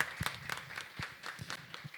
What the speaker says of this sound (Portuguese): Uma salva de palmas, então, para o projeto de lei